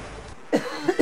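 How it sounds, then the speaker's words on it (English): A single short cough, close and fairly clear, with a small throat sound just before it and another brief burst near the end, in an otherwise quiet room. "Little cough there."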